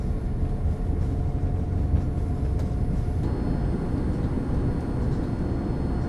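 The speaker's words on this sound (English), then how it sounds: "we will slowly begin to creep our way onto the runway and prepare for takeoff" Steady low engine rumble and broad roar inside a Hawaiian Airlines airliner cabin as it creeps onto the runway before takeoff from California, with a faint higher whine joining midway.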